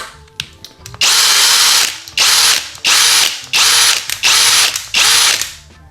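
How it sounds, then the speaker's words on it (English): A cordless drill running on a faulty Erbauer 18V EXT battery whirs loudly in six short bursts of about a second each, close and alone, with faint clicks and handling between them. "However, it does actually function on my drill."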